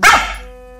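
A dog gives one sharp, loud bark up close, and its ringing tone fades away over the next half second.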